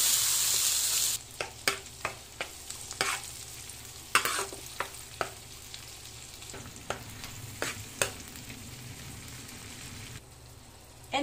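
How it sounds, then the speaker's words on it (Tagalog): Butter, garlic and onion sizzle in a pan, then ground beef is added: a steady frying hiss under repeated sharp taps and scrapes of a spatula against the pan, close and alone. "Saute the butter, the garlic, and the onion. Then add the ground beef."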